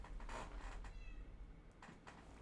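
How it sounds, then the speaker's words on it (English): A pet cat named Kitty meows loudly indoors, a few drawn-out, close cries with short gaps between them and no talk over them. "Kitty's being very loud."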